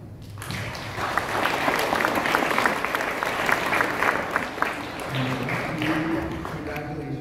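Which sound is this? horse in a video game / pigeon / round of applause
round of applause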